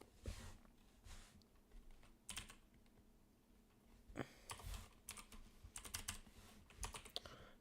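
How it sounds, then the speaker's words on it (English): A computer keyboard clacks in quiet bursts of quick, uneven keystrokes with short pauses between runs, close to the microphone and fairly faint, with no talking over it. "Sorry if my keyboard's loud."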